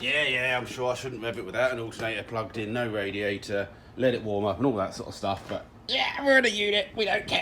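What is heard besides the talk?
No everyday noise stands out behind the speech.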